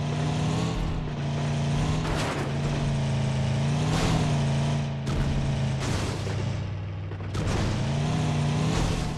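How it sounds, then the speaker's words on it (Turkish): A car in PUBG Mobile grinds over rough ground with a loud, continuous engine drone that swells and dips as it bumps along, with thuds where the underside strikes the ground. "Arabanın altını vura vura bir hal olduk be."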